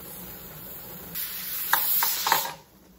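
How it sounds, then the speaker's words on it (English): A steady hiss of steam venting from a pressure canner, swelling louder and rougher with a few sputtering bursts, then dropping back to a quiet whisper. "I got a really solid, steady stream of steam coming out of the canner now"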